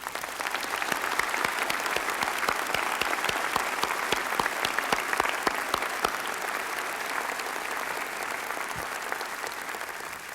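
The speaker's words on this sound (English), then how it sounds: "Please join me in applauding these exceptional teachers." Large audience applauding teaching award recipients at a university commencement ceremony, a dense, sustained roar of clapping holding steady before easing slightly at the end.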